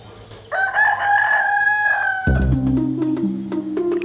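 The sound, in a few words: rooster crowing and chickens clucking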